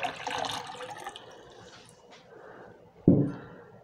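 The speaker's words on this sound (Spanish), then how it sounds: "vamos a empezar por agregar nuestra agüita en la licuadora. Es 1 litro de agua." Water is poured into a blender jar, a short splashing rush at the start followed by quieter trickles and drips, then one sharp louder splash near the end.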